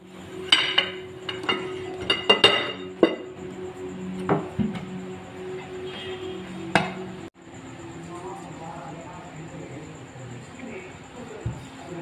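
Cakes knocked out of their moulds onto plates in a home kitchen: several sharp taps, clinks and knocks of metal tins and crockery early on, then quieter handling sounds.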